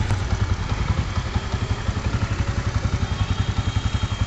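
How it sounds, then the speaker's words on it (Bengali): A repaired Spider YG-H100-A motorcycle engine idles close by, a steady, even chugging pulse with a light mechanical clatter, running smoothly throughout. "তো এবার আমরা বাইকটিকে স্টার্ট দিলাম, একদম স্মুথ সাউন্ড চলে এসছে"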